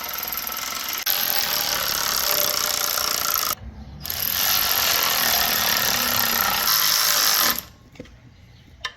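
A ratchet with a 10mm socket snugs down clutch bolts on a 1973 Datsun 240Z, giving two long runs of rapid, buzzing clicks close by, separated by a brief pause, then quiet.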